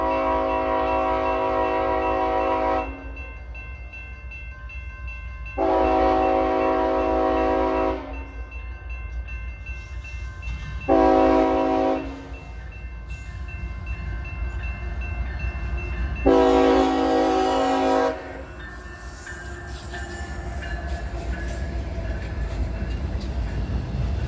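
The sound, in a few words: CSX freight train passing with horn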